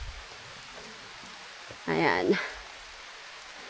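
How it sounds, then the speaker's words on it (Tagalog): Steady rain on a mountain trail on Mount Makiling, a soft even hiss throughout, with a short burst of a person speaking in the middle. "Naabutan tayo ng ulan."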